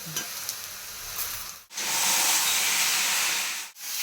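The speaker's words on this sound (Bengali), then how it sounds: "এখনো পেঁয়াজ আর চিকেন ভাজা চলছে" Onions and chicken frying in a home kitchen pan, a steady loud sizzle with stirring scrapes, broken by two brief pauses and rising to a continuous hiss in the second half.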